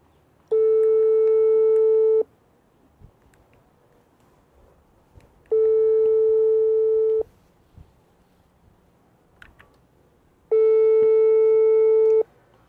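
A telephone ring-back tone sounds while a call is placed in Goma, three long steady electronic tones separated by quiet gaps of a few seconds, clear and close.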